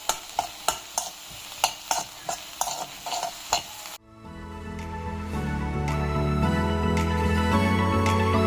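Utensil taps and scrapes against a pan, then a sudden shift to steady loud sizzling as vegetables sauté with salt and pepper, continuing evenly to the end.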